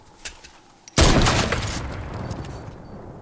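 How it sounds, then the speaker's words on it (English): A sniper rifle fires in a Fortnite match: one sharp, loud shot cracks out suddenly and its echo slowly fades, with faint game sounds before it. "I just sniped at them"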